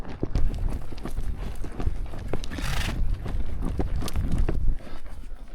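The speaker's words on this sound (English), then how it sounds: "Trotting through the snow." A horse trots through snow in a desert canyon, its hooves thudding in a quick, steady rhythm close by, with wind and some rustling alongside.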